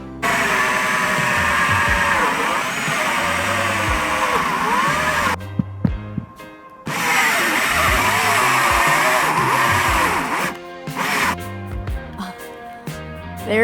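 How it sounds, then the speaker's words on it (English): A power drill bores a hole through a roof, giving a steady grinding whine that stops briefly partway, then starts again and ends in scattered clatter. "we're drilling a hole in the roof."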